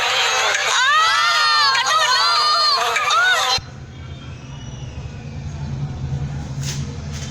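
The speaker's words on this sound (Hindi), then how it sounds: "सभी बच्चे चीखते चिल्लाते यहाँ वहाँ भागने लगे" A group of children shout and scream as they run about a classroom, a loud, chaotic burst of high voices that cuts off suddenly and leaves a quieter background rumble.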